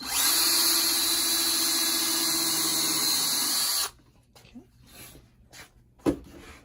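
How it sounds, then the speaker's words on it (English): A power drill whines steadily at high speed for a few seconds, close and loud, drilling pilot holes in wood, then stops, leaving quiet knocks and handling sounds. "I'm going to drill some pilot holes so it doesn't split the wood"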